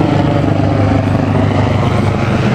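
A police helicopter hovers directly overhead, its steady, dense rotor and engine roar filling the scene at close range with no voices.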